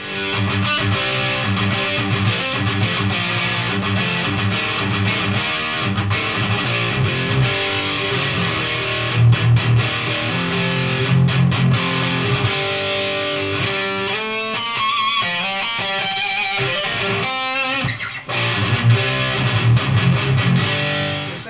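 Distorted electric guitar through a Park's Custom Pedals Ninurta overdrive/distortion pedal plays riffs and chords continuously, with a gritty overdriven tone and a washy reverb tail, loud and alone without talk.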